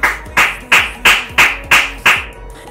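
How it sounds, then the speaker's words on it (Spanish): Six sharp, evenly spaced claps ring out one after another, each loud and close with a short decaying tail, in a steady rhythm with no voices over them. "un aplauso"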